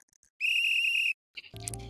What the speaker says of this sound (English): Did you blow your whistle?